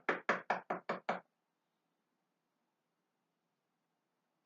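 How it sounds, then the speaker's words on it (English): Six quick, sharp knocks on a door in a steady rapid series, loud and close, followed by near silence and then the start of another knock at the very end. "keep hearing this knocking on your door"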